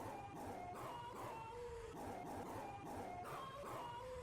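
Dog barks from the Roblox game Tiny Universe repeat in a quick, regular series of yelping calls, faint and somewhat muffled under a constant background hum.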